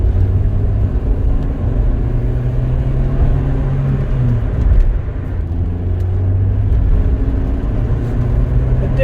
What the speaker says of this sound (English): you rev it and it carries on revving